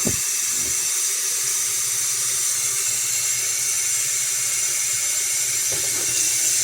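Tap water runs steadily into a kettle, a constant close hiss and splash with a short knock at the start and another near the end.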